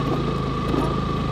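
A motorbike engine runs steadily nearby with an even, buzzing hum and no pauses.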